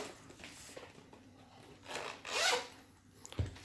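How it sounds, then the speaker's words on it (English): A zipper on a BCW Z Folio LX trading card binder is drawn open in a few short rasping pulls, building to one longer and louder zip near the end, close up with no talking. "So the zipper's up here."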